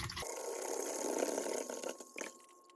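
Water pours steadily into a container for a tissue culture media batch, a broad continuous splashing rush that fills most of the moment before tapering and breaking off near the end.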